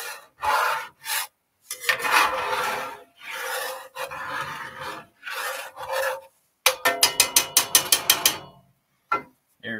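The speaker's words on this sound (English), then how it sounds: "Flour sticking the bottom a little, so scrape it loose with the spatula." A spatula scrapes stuck flour off the bottom of a pan in rough, rasping strokes, short bursts separated by pauses, ending in a quick run of rapid rhythmic scrapes, close and fairly loud.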